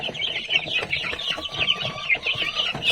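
Domestic chickens in a brooder cluck and peck repeatedly close by, a busy, continuous chatter of short calls from several birds with no one talking.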